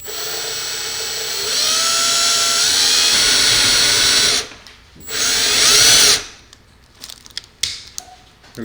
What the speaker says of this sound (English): Proceed your drilling.